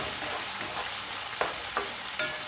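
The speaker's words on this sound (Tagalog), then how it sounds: "lutuin muna natin yung salted shrimp fry" Salted shrimp fry sizzling and frying in a pan at medium heat, a steady bright crackle with a few soft stirring scrapes, close and moderately quiet, no talking.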